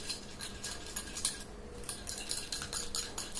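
A spoon quickly whisks a creamy yogurt paste for a homemade facial, making rapid, rhythmic clinks and scrapes against the bowl. The sound is close and moderately quiet, with no talking.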